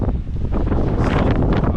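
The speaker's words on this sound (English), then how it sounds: "it's way too windy" Strong, gusty wind buffets the microphone continuously during a mountain climb, a loud broadband roar with no pauses.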